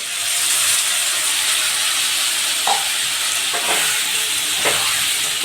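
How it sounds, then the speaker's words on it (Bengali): Spice paste of ground ginger, tomato and three dried chilies fries in hot oil in a pan, giving a steady loud sizzle and hiss. A few brief stirring scrapes cut through around the middle and near the end. "এবার এই মশলাটা আমি এতে দিয়ে ভালো করে কষিয়ে নেব"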